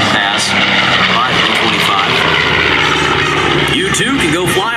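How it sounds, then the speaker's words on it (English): A B-25 Mitchell bomber named Panchito roars low on a bomb pass at the 2019 New York International Air Show, a loud sustained propeller drone with an announcer talking over it. "Here's another bomb pass."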